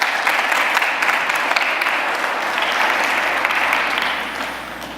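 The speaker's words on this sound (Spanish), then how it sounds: "De un aplauso de ánimo en esta tarde." A church congregation claps together in a loud, sustained, even burst of applause that tapers slightly toward the end, with no voices standing out.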